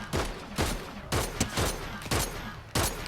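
Gunfire in the video game Fortnite: loud, sharp shots fire in quick bursts, about seven reports spread over three seconds, close and unaccompanied.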